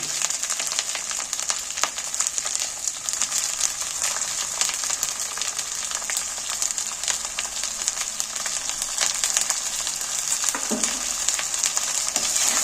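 Washed rice stirred and fried in hot oil in a pot for chicken khichdi: a continuous bright, crackling sizzle with scraping stirs running throughout, close and steady.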